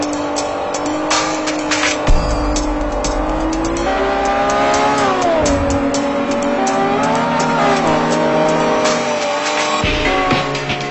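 Cars race in Forza 4, engines droning and revving loudly, pitch rising and falling through shifts, with tire squeals and skids breaking in along the way, no talking.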